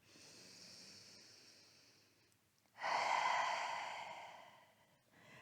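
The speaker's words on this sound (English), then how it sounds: "Breathing in and breathing out." Steady breathing during a yoga flow, a softer drawn-out inhale followed by a stronger, louder exhale, close and alone with no talk.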